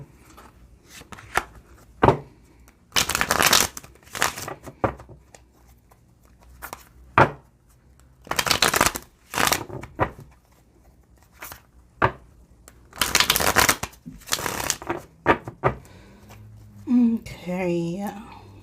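Tarot cards being shuffled and handled in a series of short, sharp riffling bursts separated by pauses, close and crisp, with a voice speaking near the end.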